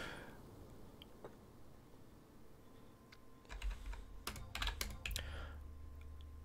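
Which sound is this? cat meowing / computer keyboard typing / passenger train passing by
computer keyboard typing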